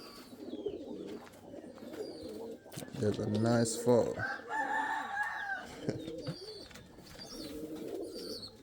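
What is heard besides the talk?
pigeons cooing, Indian fantails and pouters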